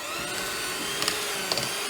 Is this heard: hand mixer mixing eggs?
yes